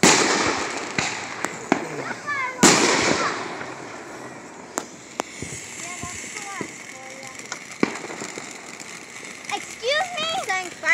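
Fourth of July fireworks bang in a few sharp, loud bursts early on, then crackle and whistle faintly at a distance, while children and adults talk and shout close by throughout.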